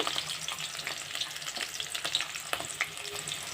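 Onions and green chillies sizzling in hot oil for a peanut and okra fry, a steady soft crackle with occasional stirring scrapes and small pops, no talking.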